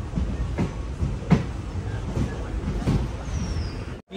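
A passenger train in general class running from Guruvayur toward Ernakulam, with a steady rumble and rattle of the carriages. Periodic wheel clacks stand out above the continuous running noise.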